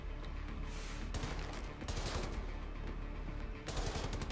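A weapon fires in Wolfenstein: The New Order in quiet, rapid bursts separated by brief pauses, with sharp, crackling impacts at moderate distance.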